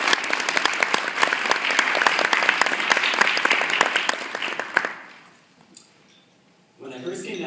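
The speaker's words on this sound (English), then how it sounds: "please give yourselves another round of applause" Graduating seniors at a university commencement ceremony give a loud, dense round of applause that runs steadily for about five seconds before fading out, and a single voice picks up right after it.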